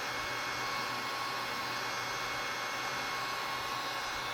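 A heat blower cures NanoflowX waterproofing solution on a circuit board, giving off a steady, continuous hair-dryer-like rushing hiss at moderate level with no talking.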